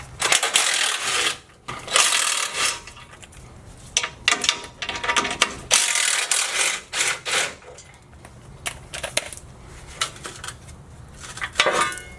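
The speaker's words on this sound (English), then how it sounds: "Remove the skid plate with the 13 millimeter." A hand ratchet with a 13 mm socket works bolts loose on a truck skid plate, with bursts of rapid clicking, metallic clanks and handling noises close up, broken by short pauses.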